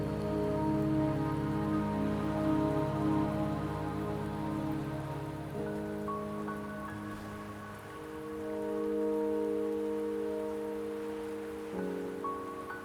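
Steady rain falls in the Wuthering Waves video game, a continuous even patter that runs the whole time beneath sustained musical tones, with no voices.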